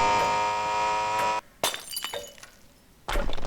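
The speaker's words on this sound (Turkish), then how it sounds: "Işık niye kırıldı?" A light bursts in the horror video game Doors: a sudden breaking crack with shattering glass cuts off a loud steady hum, followed by scattered tinkling debris and another sharp hit near the end.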